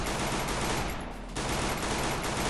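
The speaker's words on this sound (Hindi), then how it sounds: "फायर कर रहा हूँ शॉट कनेक्ट नहीं हो रहे" Dense, loud rapid gunfire in the Garena Free Fire clash squad match, a continuous burst with a brief dip in the middle before firing resumes at full intensity.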